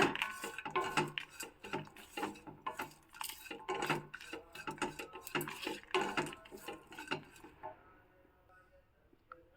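A spoon stirs and scrapes ingredients in a metal pan after lemon juice is added, in a temple-style South Indian rice dish. The clinks are quick and irregular, close but fairly soft, and they fade out near the end.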